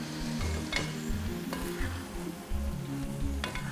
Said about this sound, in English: Just give it a stir to make sure everything is nice all over.